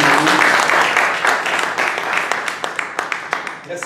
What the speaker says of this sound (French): Et sur ça, on applaudit